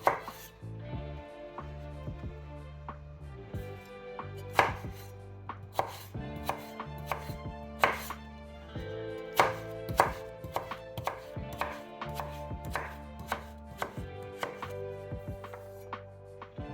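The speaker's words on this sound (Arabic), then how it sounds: "غادي نكمل هاد البطاطا ديالي في التقطاع" Potatoes are chopped with a knife on a board, sharp rhythmic knocks repeating steadily at close range with a faint ring from the board, and no voices.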